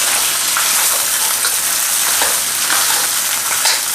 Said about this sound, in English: Just 2 tablespoons, generous tablespoons of the ginger, and stir him on up. Keep stirring until the ginger is really fragrant.